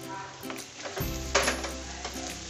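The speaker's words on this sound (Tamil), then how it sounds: "நல்லா கிளறிடலாம்." Soy sauce chicken is stirred in a frying pan, giving a close sizzle with scraping utensil strokes against the pan, and the frying grows louder midway, with no talking.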